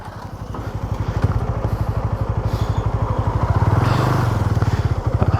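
Motorcycle engine running steadily during a ride toward the Goa–Maharashtra border, a loud, close, rhythmic throb that rises slightly in pitch midway, with no talk over it.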